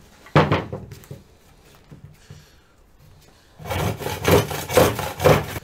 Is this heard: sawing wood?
yes